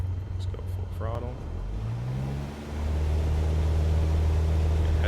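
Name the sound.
aircraft engine at full throttle, Microsoft Flight Simulator video game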